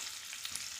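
Curry leaves crackle and hiss as they drop into a hot pan of oil with cumin and dried red chillies, a steady, faint, bright sizzle with a couple of small pops and no voices.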